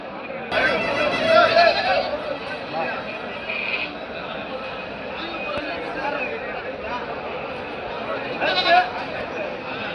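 Goats bleating at a busy village goat market in Udayarpalayam, several loud nearby calls rising above a steady crowd babble, with people talking throughout.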